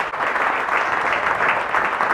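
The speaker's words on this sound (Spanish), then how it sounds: "Fuertes aplausos al Rey de Reyes, el Señor de Señores." Dense, steady applause from a church congregation during a Holy Week Mass, loud and continuous, a full wash of many hands clapping at once with no voices over it.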